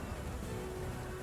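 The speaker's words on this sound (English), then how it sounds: "So thick are the rains ahead of you that even when lightning cracks down to the ocean below, you cannot see the lightning through the sheets of rain." Steady, dense rain ambience of a heavy storm at sea, a continuous wash of drops hitting surfaces with a low rumbling undertone, fairly faint and even throughout with no voices.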